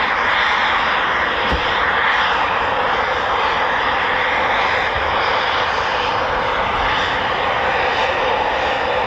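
A Royal Air Force Eurofighter Typhoon FGR4 jet roars continuously at a distance, a broad, steady engine rush that holds for several seconds with no voices.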